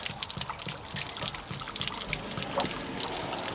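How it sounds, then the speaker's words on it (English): Water drains steadily from a camper's fresh water tank on a Forest River Wolf Pack 27Pack10 during winterizing, a continuous close trickle and splash with no talk over it. "And we're gonna let that drain."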